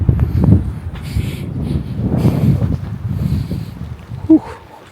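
Strong gusty wind at a mountain campsite in Bokod, Benguet buffets the microphone with low rumbling roars that swell and fade, rustling tent fabric and a brief thump near the end.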